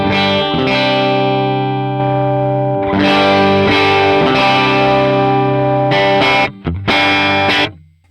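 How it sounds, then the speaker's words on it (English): Electric guitar chords ring out with a thick, crunchy overdrive tone, sustained strums with brief pauses and a final cut-off. "I'm gonna pick out overdrive. I'm gonna turn it off and I'll turn it on"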